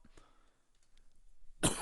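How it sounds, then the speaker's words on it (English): A person coughs once, harsh and close to the mic, near the end of a quiet stretch with faint background sounds before it. "Apologies for the coughing as well."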